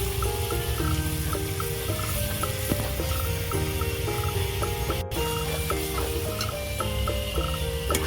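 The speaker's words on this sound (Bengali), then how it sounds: "আদা রসুন আমি ভালো করে কষিয়ে নিয়েছি" Ginger and garlic paste with turmeric sizzles steadily in hot oil in a pan, a continuous close-up frying crackle with no talk.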